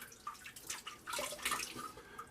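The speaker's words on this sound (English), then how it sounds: "Alright, let's wet the face." Water splashes and drips at a sink as hands wet a face before a shave, making several close, soft bursts of sloshing and trickling with no talking.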